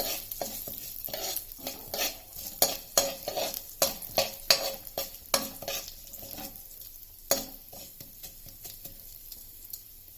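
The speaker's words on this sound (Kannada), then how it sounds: "ಉದ್ದಿನಬೇಳೆ ಇಷ್ಟನ್ನು ಫ್ರೈ ಮಾಡಿ. ಮೀಡಿಯಂ ಫ್ಲೇಮಲ್ಲಿ ಫ್ರೈ ಮಾಡಿ." Urad dal and fenugreek fry in a pan over a medium flame, a soft background sizzle broken by frequent, irregular scraping and clinking of a stirring spoon against the metal.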